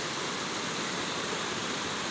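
Clear stream water flows around someone wading at Shahdara Point near Islamabad, giving a constant close rushing hiss with no breaks.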